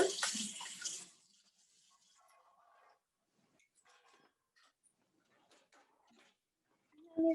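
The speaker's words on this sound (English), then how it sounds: "And you rinse them with water." Dental instruments rinsed under running water at a sink, a loud burst of splashing flow for about a second before it cuts off, followed by faint clinks and handling sounds, then a short louder knock at the end.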